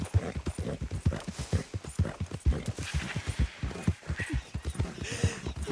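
Horse hooves clip-clop in a steady, quick trotting rhythm in a video game, close and prominent, with a brief whinny-like sound mixed in and no talk.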